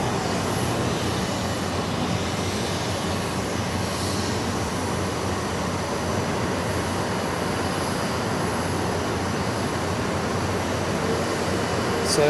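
A Singapore Airlines Boeing 777 departs from runway 28 at Zurich Airport, its engine roar a steady, broad rumble that stays loud and unbroken throughout, with no talk over it.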